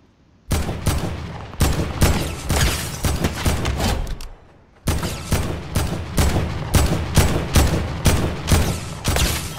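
Rapid bursts of gunfire in a Fortnite match, loud and close, firing in dense volleys with a short pause midway before resuming just as heavily.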